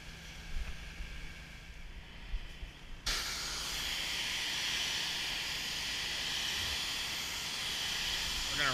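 A pressure washer sprays a coat of soap onto a house exterior, a faint hiss at first that jumps abruptly into a loud, steady, close rushing spray which continues unbroken to the end.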